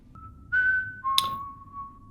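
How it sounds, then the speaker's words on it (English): A tense, eerie whistled tune from a television horror drama: a sustained held note, then a jump to a brief higher note and a long lower held tone, clear and fairly close with no talking. "Oh, and there comes the psycho whistle."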